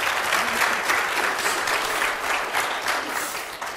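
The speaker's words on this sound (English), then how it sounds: "Give them a clap before we start" A church congregation at a Mother's Day service claps for a panel of mothers, a full, even burst of many hands applauding throughout, close and lively with no talk over it.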